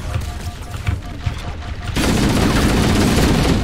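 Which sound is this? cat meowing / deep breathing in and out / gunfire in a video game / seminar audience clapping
gunfire in a video game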